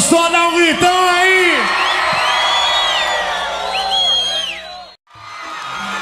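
A concert crowd shouting and whooping loudly in response to a call from the stage, sustained overlapping yells and cheers that cut off abruptly near the end.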